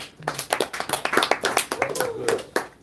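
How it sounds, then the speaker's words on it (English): A small church congregation claps after a talk, with loose, uneven hand claps at close range and a few voices underneath. "And applause for Anna for being our videographer."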